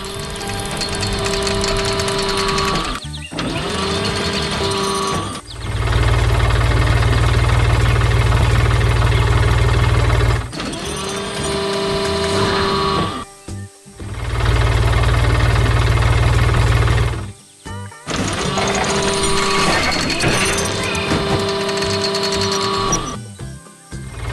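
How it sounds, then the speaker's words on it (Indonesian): Engine of a blue animated tractor with a front loader working in a colorful flower garden, heard as a loud continuous machine drone that cuts out briefly several times with musical tones layered over it. "Lihat traktor biru yang sedang bekerja keras di tengah kebun bunga yang ceria"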